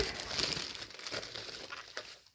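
Plastic packaging being unwrapped from custom 3D Yu-Gi-Oh trading cards, giving a close, steady crinkling and rustling for about two seconds with a few sharper crackles and no talking.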